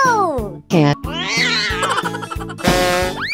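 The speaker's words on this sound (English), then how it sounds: "Cat." A cat meowing in several loud, close, drawn-out calls with rising and falling pitch, following one another with brief gaps.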